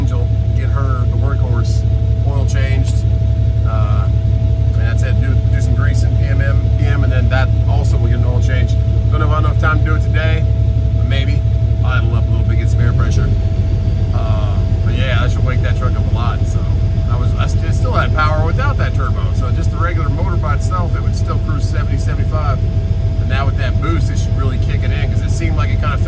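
A truck engine running with its turbo broken in half makes a constant deep low rumble beneath continuous talking.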